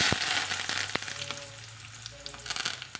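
Shallots and curry leaves sauté in hot oil, a close, continuous sizzle and crackle with sharp pops and stirring clatter throughout.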